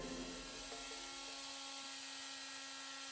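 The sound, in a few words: cutting off dried expanding foam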